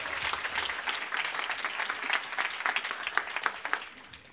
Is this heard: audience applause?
yes